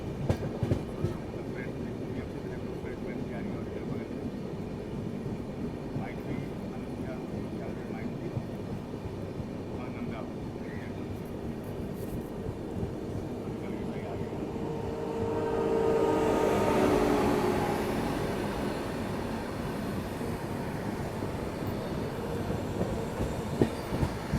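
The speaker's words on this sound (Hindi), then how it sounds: "गुड्स को चेज करते हुए कोई तो एक्सप्रेस गाड़ी आ रही है" An express train overtaking a goods train on a parallel track in India, heard from a moving train as a steady rumbling roll with clattering wheels, swelling into a louder rushing pass near the end.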